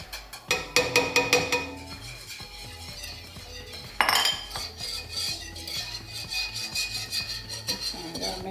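Metal utensil scraping and clinking against a pot while flour and milk are stirred for mac and cheese, with rapid clattering strokes early on and continuous scraping and rubbing near the mic.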